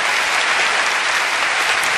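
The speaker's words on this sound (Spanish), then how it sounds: "¡Un aplauso para este señorón!" Dense, steady applause from a theatre concert audience at a tribute show to the OTI Festival, a continuous wash of clapping filling the whole span at even loudness, with no voices on top.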